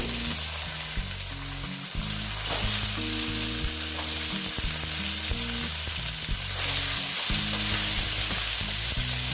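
Pieces of sweet pumpkin going into kolmi greens frying in a pan for a vegetarian chorchori, a steady close sizzle running the whole time beneath a melodic music track.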